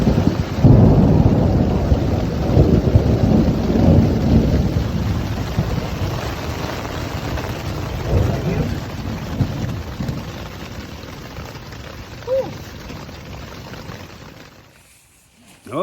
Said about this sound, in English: We sat out the rain, thunder, and lightning